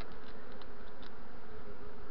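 Honeybees hum as a steady, dense buzz from a colony nesting in a hollow linden tree, continuous and close with no voices.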